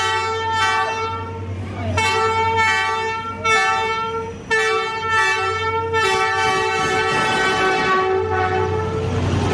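A train rolling through Vietnam's train street, blasting its horn repeatedly in long loud tones over a steady rumbling drone of the passing cars.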